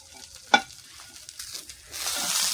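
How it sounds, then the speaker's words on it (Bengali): Green chilies fry in a frying pan: a sharp metallic clink of stirring, scattered light crackles, then a sizzle swelling louder toward the end. "এখন আমি এখানে কাঁচামরিচ দিয়ে দেবো এই ফ্রাই প্যানের মধ্যে,"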